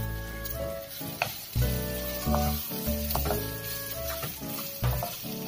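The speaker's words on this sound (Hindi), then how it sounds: "हल्का सा कलर चेंज हो जाए इतना ही हम इनको फ्राई करेंगे।" Vegetables and spring onion sizzling in a pan as they fry for a soup, with a steady close crackle, occasional stirring clatter and scraping on top, and no voices.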